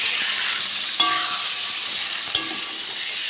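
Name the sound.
sautéing mustard and green chili paste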